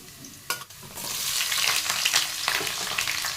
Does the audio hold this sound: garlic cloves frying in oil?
yes